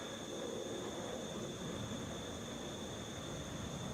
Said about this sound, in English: Delta 2484. On its way to Birmingham, Boeing 717.